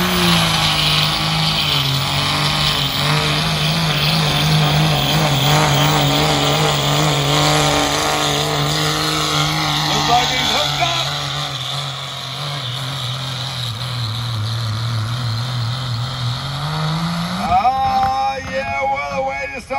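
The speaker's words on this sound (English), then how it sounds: "We're building some boost. We're gonna start slipping out on the clutch." Turbocharged drag engine at a county fair, holding a steady loud drone as boost builds with the clutch slipping, then climbing sharply in pitch at the launch near the end.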